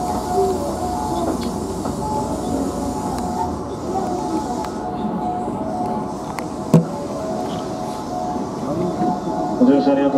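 Osaka Higashi Line electric train heard from the driver's cab, a steady low rumble and hum of the running train with a brief clunk midway, continuous and fairly loud throughout.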